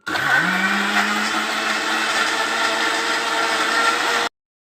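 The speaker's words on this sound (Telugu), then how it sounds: "మూత పెట్టి ఇప్పుడు మిక్సీ వేసి" A mixer grinder whirs loud and steady as it blends a banana milkshake with ice, rising in pitch in the first second, then holding a constant drone before cutting off abruptly.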